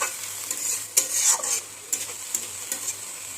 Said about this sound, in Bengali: জল দিয়ে দিচ্ছি বেশি জল দেব না সামান্য একটু জল দেব